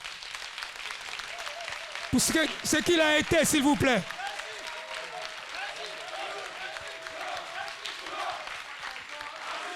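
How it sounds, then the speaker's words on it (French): An audience stands and applauds in tribute at a mourning gathering, a dense steady wash of clapping throughout, with a voice speaking loudly over it for a couple of seconds near the start. "Nous allons nous lever pour applaudir juste 1 minute"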